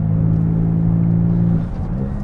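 A Porsche 718 Spyder's mid-mounted flat-six with an Akrapovic exhaust drones at a steady, loud idle-to-cruise pitch, then dips briefly near the end as the revs shift, with no talking over it.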